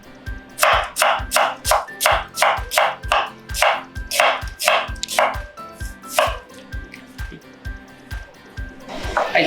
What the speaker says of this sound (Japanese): 玉ねぎはね、ヘタを取ってスライスしていきます。